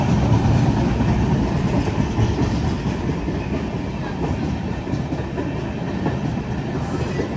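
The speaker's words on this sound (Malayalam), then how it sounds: "ജാംനഗർ തിരുനെൽവേലി എക്സ്പ്രസ് ഇപ്പൊ റോഹ റെയിൽവേ സ്റ്റേഷനിലെത്തി" Jamnagar Tirunelveli Express rolling through Roha railway station on Central Railway, a steady loud rumble of carriages with continuous rail noise and no pause throughout.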